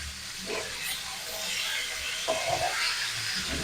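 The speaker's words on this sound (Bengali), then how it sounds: "আর আমটাও অনেকটা ভাজা হয়ে গেছে, আর একটু ভেজে নেব।" Pieces of raw mango fry in oil for a sweet jaggery pickle, giving a close, steady sizzle. Brief scraping stirs from a spatula break through the hiss.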